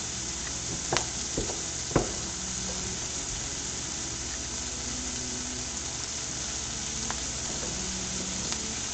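Butter, slightly burnt, fries in a pan with a steady close sizzle, broken by a few sharp clicks and taps of a utensil.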